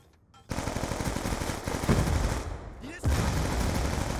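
Sustained automatic gunfire in a Call of Duty video game, loud rapid rattling that kicks in after a quiet start, dips briefly, then resumes at full intensity.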